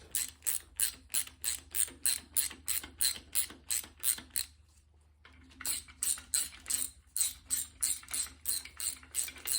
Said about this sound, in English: These other ones, I'm going to get a socket on to speed the process up.